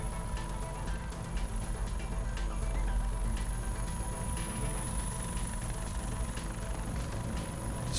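Helicopter engine spooling up during a chopper tour over Argentina and Chile: a constant deep rumble topped by a thin high turbine whine, close and steady throughout, with no speech.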